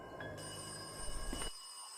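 An old-style black telephone bell rings in a sustained metallic trill, then cuts off abruptly, leaving a faint hum.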